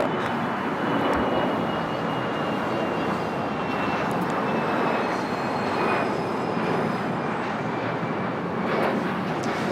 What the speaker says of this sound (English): Bombardier Global 5000, destination unknown.